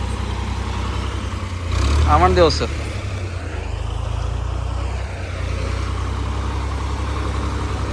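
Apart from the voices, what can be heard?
tractor engine being tow-started and idling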